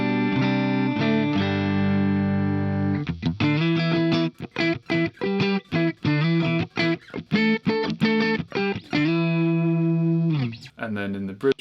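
Plucked notes and chords ring from an electric guitar made from almost no wood, set to its middle pickup position and played through a Marshall amp on a clean tone, with quick staccato runs and sustained chords up close.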